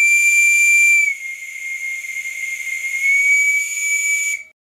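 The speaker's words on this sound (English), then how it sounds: "This next whistle is very small, and it's made in China" A very small Chinese-made Microcosm model steam whistle blows a shrill, very high, steady tone with a hissing edge, dipping slightly after a second, then cutting off abruptly.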